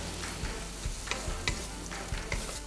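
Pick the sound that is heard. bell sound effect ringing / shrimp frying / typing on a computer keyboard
shrimp frying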